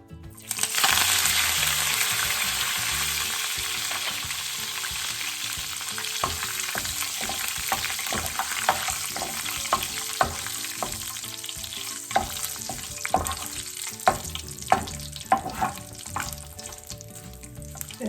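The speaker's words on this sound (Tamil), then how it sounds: "இந்த கருவேப்பிலையை போட்டு பொறிச்சு எடுத்துக்கொள்ளுவோம்" Curry leaves crackling and spitting in hot oil, a loud continuous sizzle that opens with a burst and settles into steady popping, with occasional stirring scrapes.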